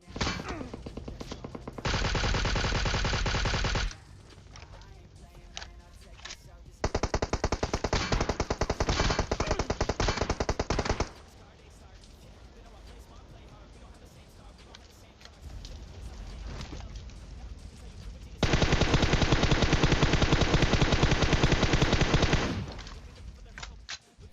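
Automatic gunfire in a multiplayer shooter game, with long sustained bursts of rapid fire in three loud stretches separated by quieter gaps of game noise.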